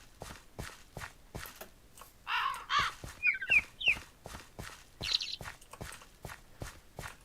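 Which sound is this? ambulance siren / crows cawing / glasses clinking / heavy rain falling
crows cawing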